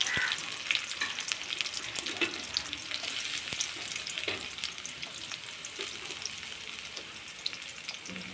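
Onions sauté with curry leaves in a pan for a whole brinjal coconut-milk curry, giving a soft, steady hiss with occasional light stirring scrapes, fairly quiet and close, with no voices.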